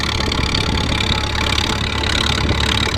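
A steady, rough tractor engine idle with a finicky carburetor and big bore kit runs continuously at close range, loud and unbroken, with no voices.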